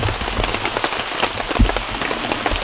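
Rain falls steadily on surfaces at an early-morning campsite, a dense, close patter of drops running continuously with no voices.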